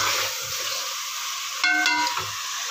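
Beef being stirred with ground spices, garam masala and salt in a hot pot, a steady hissing sizzle with soft scraping strokes and a brief ringing metallic tone partway through, close and fairly loud.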